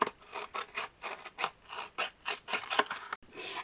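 Scissors snip around a small paper teardrop label in a rapid series of about a dozen crisp cutting strokes, close and clear, with no voices.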